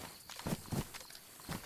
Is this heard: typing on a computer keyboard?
no